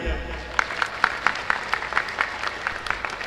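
An audience at a speech at a local fair claps in a steady, rhythmic beat, evenly spaced sharp claps over a low murmur, at moderate volume.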